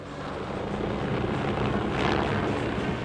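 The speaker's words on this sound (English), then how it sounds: "the versatile Puma has a maximum speed of 167 knots and can carry up to 16 fully equipped troops" RAF Puma helicopter flying: a dense, steady broadband rotor and engine roar, loud and constant throughout with a slight swell near the end, no voices.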